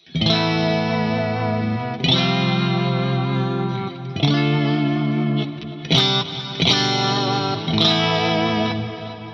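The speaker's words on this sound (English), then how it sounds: "So this is my clean sound at the moment." A clean electric guitar through a Fractal FM9 Turbo amp modeler strums ringing chords with a shimmering, chorus-like tone, loud and close, changing chords every couple of seconds.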